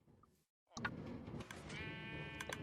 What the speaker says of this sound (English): Well, let's get the other sheep in.